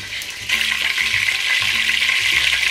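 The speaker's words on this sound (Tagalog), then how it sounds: "Ngayong kumukulo na po ang ating mantika" Cooking oil heats in a pan, ready for sautéing garlic, making a loud, close, continuous sizzle with a slight rise in intensity after the first half second.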